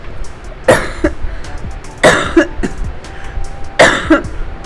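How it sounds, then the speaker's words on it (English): Three separate bursts of coughing, a couple of seconds apart, close to the microphone over a quiet background hiss. "I'm gonna start coughing"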